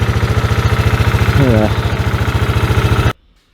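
A cheap ATV engine idling close up in the snow, a steady loud chugging pulse that suddenly cuts off into silence near the end, with a voice briefly heard over it.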